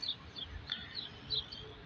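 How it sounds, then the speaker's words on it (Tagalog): Several birds chirp in short, high bursts from the branches of an old olive tree, some nearer and some farther off, over a quiet outdoor background with no talking. "Maraming ibon sa taas"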